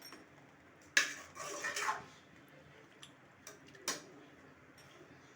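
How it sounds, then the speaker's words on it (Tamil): Food being mixed in a bowl, scattered clinks and scrapes of a utensil against the dish, a few sharper knocks amid quiet background, close and fairly faint. "இதை பாருங்க, நல்லா மிக்ஸ் பண்ணிக்கிறேன்"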